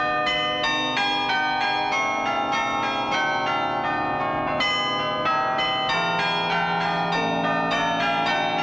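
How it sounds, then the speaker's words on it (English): Bournville Carillon tower bells ring out a continuous melody, overlapping tuned strikes with long ringing decay, loud and steady throughout with no voices. "we may have heard the carillon playing at 1/4 and 1/2 the hour"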